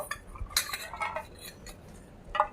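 Washed chickpeas tumble into a puffed rice mix for muri mishali, giving a run of close, light clattering taps against the bowl with a sharper clink near the end, no voices.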